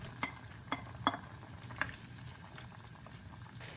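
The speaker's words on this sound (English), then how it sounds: "After the water boils, we can see that the soup has turned milky white." Three delicacies soup with mushrooms and ham boiling in a pot, a steady bubbling simmer with a few sharper pops and clinks near the start, close by, with no talking.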